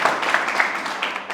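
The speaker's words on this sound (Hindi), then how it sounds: "तो ताली बजाओ यार कम से कम।" Light audience applause at an RRB JE 2024 rankers' celebration event, a steady patter of clapping sustained for a moment at moderate volume with no talk over it.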